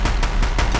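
A quick burst of rapid gunfire from a Deathbringer gun in Horizon Zero Dawn, about four loud shots in under a second, close and without talking.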